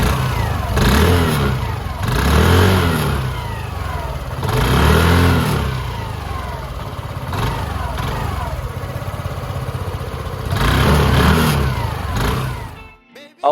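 A Hero Xoom 110cc scooter with a 110.9cc air-cooled four-stroke engine revs up repeatedly, rising and falling in several rhythmic acceleration surges that stay fairly loud, before the sound cuts off abruptly at the end.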